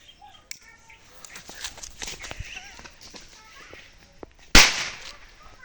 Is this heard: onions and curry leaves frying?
no